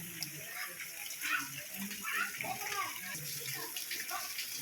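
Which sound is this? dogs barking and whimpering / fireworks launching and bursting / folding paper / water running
water running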